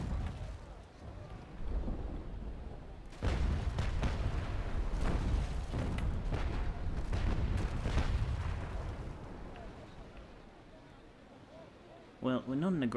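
Naval cannon fire in Naval Action, a rolling barrage of deep booms rumbling like distant thunder, spread over several seconds and fading out, with someone talking over it.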